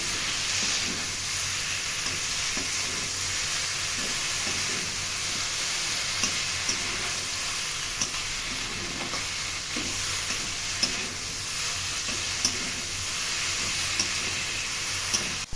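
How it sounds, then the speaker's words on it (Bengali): Boiled bottle gourd greens and potatoes stir-fried together in a pan, giving a dense, unbroken hiss of sizzling with faint spatula scrapes close by and no speech. "এবার শাক ও আলু একত্রে নেড়ে চেড়ে ২ থেকে ৩ মিনিটের মধ্যে আমি নামিয়ে ফেলছি"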